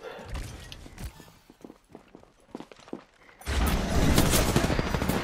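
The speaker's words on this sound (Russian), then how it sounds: "Стреляют!" Gunfire in Apex Legends: scattered sharp shots at first, then a sudden dense burst of sustained automatic fire filling the last couple of seconds, loud and close.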